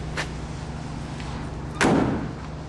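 The driver's side door of a 1964 Mack truck cab, its rubber seals dry-rotted, shuts with a single solid, loud thud after a moment of quiet, then a brief ringing tail. No voices are heard.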